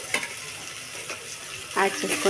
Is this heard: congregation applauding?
no